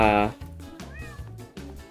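A cat meows in the Roblox game Grow a Garden, several short distinct meows in a row, close and clear, with a louder tonal sound at the very start.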